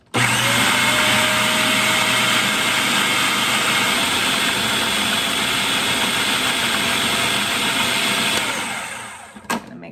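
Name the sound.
blender blending avocado chocolate mousse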